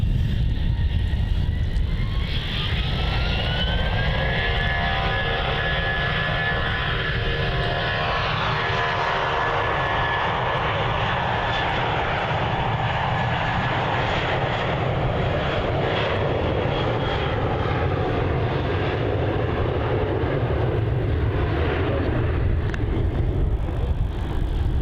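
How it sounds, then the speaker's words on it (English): A Jetstar jet airliner departs Melbourne Airport, its engines roaring loud and steady as it climbs, with a rising whine and a broad rumble sustained throughout, heard alone. "On departure there we have Jetstar flight JQ504 off to Sydney."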